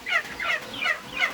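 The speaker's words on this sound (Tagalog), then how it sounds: "At yung pabo, 17 piraso yan." A flock of seventeen turkeys on a farm gobbling in four quick, evenly spaced warbling calls, close and moderately loud with no talk.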